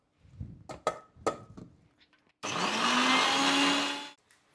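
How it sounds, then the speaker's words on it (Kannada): A kitchen mixer grinder whirs loudly for about two seconds as it blends garlic and ginger with water into a paste, preceded by a few knocks and clatters of loading the jar. "ಇದಕ್ಕೆ ಸ್ವಲ್ಪ ನೀರನ್ನ ಹಾಕ್ಕೊಂಡು ಪೇಸ್ಟ್ ಥರ ರುಬ್ಕೋಬೇಕು."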